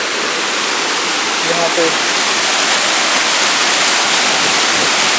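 Waterfall above the main falls near Mcleodganj, a loud, dense, continuous rush of falling water filling the scene, with a voice speaking briefly over it.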